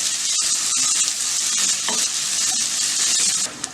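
Four large onions with cumin seeds fry in two tablespoons of oil for a baby potato curry, giving a steady loud sizzle with occasional stirring scrapes and no voices.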